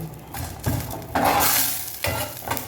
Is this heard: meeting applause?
no